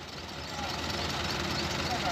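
A Massey Ferguson MF 260 tractor engine hauling a trailer stuck in a field runs as a steady low rumble, partly under people talking nearby.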